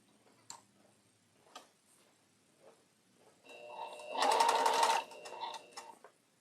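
A sewing machine stitches a quilt block in a fast mechanical whir that rises for about a second and a half, with soft ticking clicks before and after.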